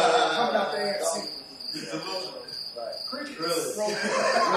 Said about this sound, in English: Crickets. Really?